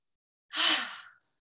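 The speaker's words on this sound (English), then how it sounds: "as you release, let the breath out through your mouth like this" A single breath let out through the mouth during a yoga exercise, a soft, airy exhale lasting under a second, close and alone.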